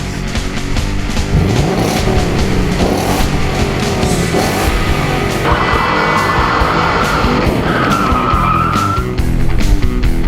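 Loud engines revving with tires squealing and skidding, a continuous roar of racing cars throughout.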